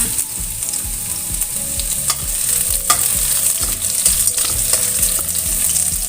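Shallots and garlic fry in hot oil in a wok with a steady crackling sizzle, broken by rhythmic scraping strokes from stirring, close and continuous with no voices.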